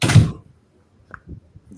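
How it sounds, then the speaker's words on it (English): A door swings shut with a single loud thud at the start, followed by faint scattered knocks and small movement sounds in an otherwise quiet room. "And slam the door."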